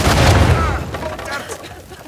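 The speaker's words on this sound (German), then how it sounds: "Das war ein Spätexplodierer." A loud, close explosion in the video game Uncharted 4, a heavy booming blast that rumbles and decays over about two seconds, with a little voice mixed in.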